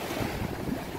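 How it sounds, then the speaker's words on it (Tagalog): Large ocean waves breaking at a spearfishing spot, a low continuous rumble of surf mixed with wind buffeting the microphone, heard briefly with no voices. "Kahit lalaki ang alon yan."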